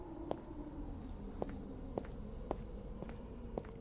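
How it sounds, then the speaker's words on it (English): Footsteps sound at a distance, about seven soft, evenly spaced steps in a slow walking rhythm over a low, steady background murmur. "I heard footsteps in the distance"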